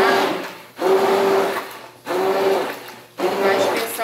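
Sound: hand mixer blending liquid soap mixture

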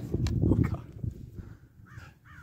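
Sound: crows cawing at a lake

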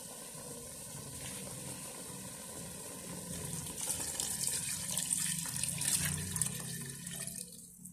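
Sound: tap water filling a pot for soup

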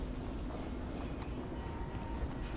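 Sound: train moving in video game F.E.A.R. 3

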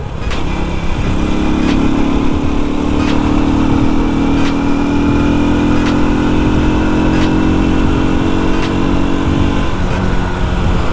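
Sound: Rusi Surf 125cc scooter engine while riding

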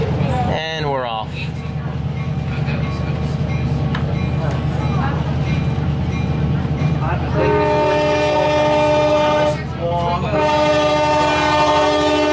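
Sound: locomotive passing through a road crossing

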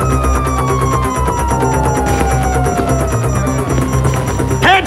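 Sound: police sirens in video game

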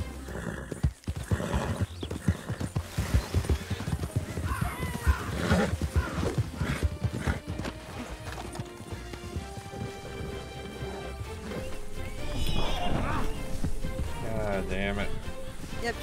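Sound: horse galloping and neighing in video game

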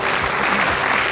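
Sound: audience applause for Iván

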